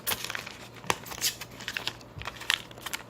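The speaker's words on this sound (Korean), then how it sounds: "한번 뜯어보도록 할게요" Someone tears and crinkles open the plastic wrap on a package of modelling clay, giving close, sharp rustles and rips in irregular bursts over a faint steady hum, with no talking.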